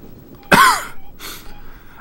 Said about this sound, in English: I'm going to attempt to not cough into the mic as much as I can.